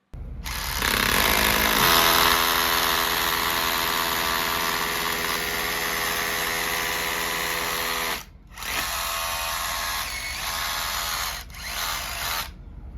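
A DeWalt DCH172B compact rotary hammer drills into concrete with a loud, steady hammering whine that runs continuously for about eight seconds, briefly stops, then resumes twice.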